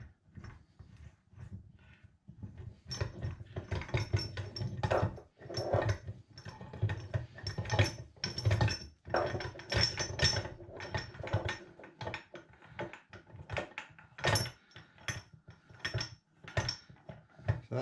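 A Granturismo bearing tool is wound into a scooter crank by hand, giving repeated close metallic ratcheting clicks and scraping turns in uneven bursts, with brief pauses between strokes.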